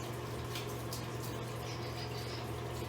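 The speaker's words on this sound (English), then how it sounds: "You're going to continue rubbing vigorously as you go under the flowing water." Tap water flows steadily as hands are rinsed under it at a sink, a constant splashing hiss with a low hum beneath and faint irregular splashes, no talk.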